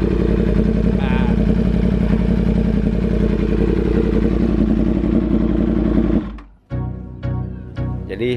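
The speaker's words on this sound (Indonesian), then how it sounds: "Terus kalau habis digas gitu terus dilepas gas kayak nembak-nembak gitu." Yamaha R1M crossplane four-cylinder superbike with an Arrow exhaust revs hard and loud close by, then drops off the throttle into irregular popping and crackling bursts near the end.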